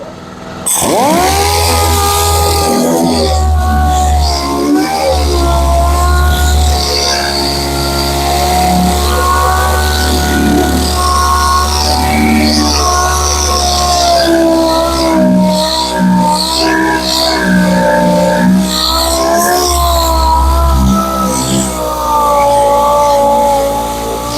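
A dual action sander whirs steadily and loudly up close, its motor tone wavering slightly as it works continuously with no talking.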